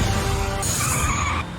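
A car skids with a sharp, squealing tire screech over rumbling engine noise, loud and close, in the Doctor Who episode Father's Day; the squeal shifts pitch and then cuts off abruptly.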